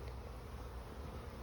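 Honeybees humming at the entrance of a hive, where they go in at the top; a steady, close, continuous buzz with low droning tones and no voices.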